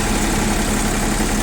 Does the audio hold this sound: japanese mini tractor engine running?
yes